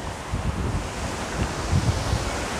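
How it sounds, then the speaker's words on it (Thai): Strong storm wind gusts buffet a tent at a campsite near Brienz, Switzerland, a steady roaring rush with low rumbling microphone buffeting that swells and fades, with no talk. "ลมแรงมาก"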